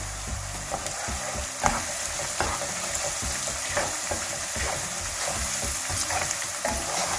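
Pepper dolma filling sizzles and fries in a pan while being stirred, a continuous crackling hiss with soft scraping strokes throughout.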